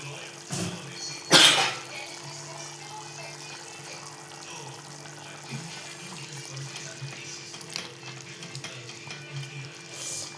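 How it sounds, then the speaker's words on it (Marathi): Dried squid cooking in a covered pan for an Alibag-style sukha, giving a steady soft sizzle and crackle with one sharp, loud pop near the start. No words are spoken. "ह्या किती शिजवल्या ना तरी तडतडतच राहतात"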